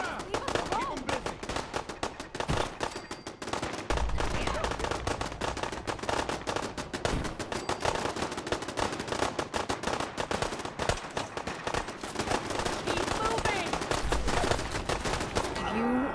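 Rapid video game gunfire in Fallout 4 goes on as a dense, continuous clatter of shots throughout, fairly loud, with occasional heavier thumps mixed in.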